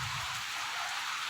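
Heavy monsoon-style rain pours down steadily with a dense, loud, continuous hiss of drops on surfaces, no voices.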